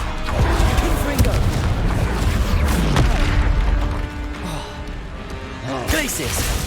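Blasting-spell explosions from Confringo in Hogwarts Legacy, heavy booms and crashing bursts landing in several hits, loud and near, with a person talking over them.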